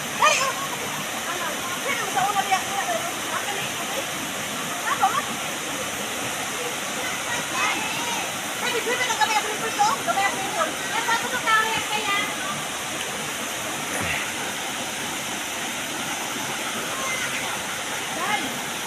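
Water from a secret falls rushes in a steady broad roar, with splashes and people talking and shouting over it throughout.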